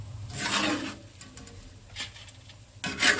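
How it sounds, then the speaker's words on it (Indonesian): Small anchovies (teri) frying in a pan, with bursts of sizzling and stirring scrapes that rise and fall in short, close, uneven pulses. "Ini saya terinya udah saya masukkan, saya goreng juga"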